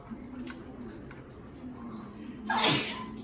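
A single sharp sneeze near the end, close and sudden, following a quiet stretch of faint kitchen sound while cooking lasagna.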